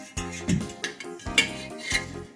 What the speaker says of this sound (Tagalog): We'll beat the eggs.